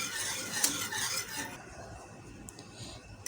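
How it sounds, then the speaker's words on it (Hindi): A spoon stirs milk thickened with cornflour in a pot, producing soft, continuous rubbing and scraping strokes close by. The sound is louder at first, then turns quieter and sparser, and no voices are present. "इसको चमचा चलाते रहेंगे तकरीबन 5 से 10 मिनट तक हम इसको चमचा मुस्तकिल चलाते रहेंगे"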